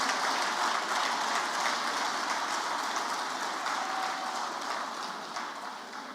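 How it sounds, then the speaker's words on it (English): Dense, thunderous applause from a dinner audience welcoming the president fills the room as a continuous loud clatter of many hands, fading slightly near the end. "Can we hear that applause to welcome the president?"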